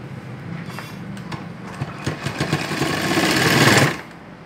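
A sewing machine runs a straight stitch along the hem of an Afghani salwar cut for a two-year-old, its steady whir building and quickening before stopping sharply near the end.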